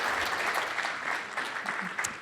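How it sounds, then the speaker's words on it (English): Audience applause at a production event, a steady dense wash of clapping from a crowd that holds for the whole stretch at moderate level before easing slightly at the end. "let's give Nav a final round of applause"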